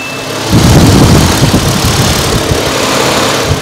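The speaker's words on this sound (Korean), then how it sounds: "엔진 소리도 기존 휘발유 차량하고 동일하게 잔잔한 엔진 소리를 내주고 있는 차량이어서" Close, loud V6 engine of a Samsung SM7 car starting its idle, settling into a steady low rumble that holds evenly with no voices.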